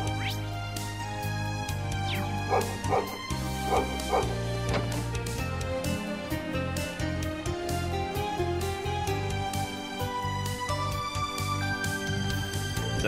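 Dog barking inside the video game Trails of Cold Steel, with repeated yapping bow-wows and whimpers over steady game music, moderately loud and continuing across the scene.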